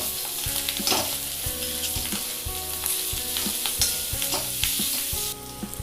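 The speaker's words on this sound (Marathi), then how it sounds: "2 मिनिटं परतून घेऊया" Green chilli and ginger sauté in a kadhai while making potato samosa filling, with a continuous loud crackling sizzle and stirring, overlaid by steady rhythmic background music.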